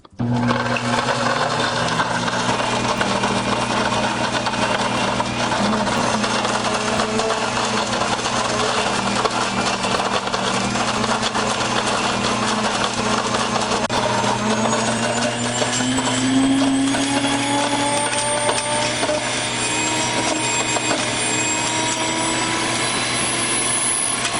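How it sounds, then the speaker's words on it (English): A steady, loud L'Equip Nutrimill electric grain mill whine and rumble runs throughout, with a rising tone creeping higher near the end; no voices. "It is a grain mill."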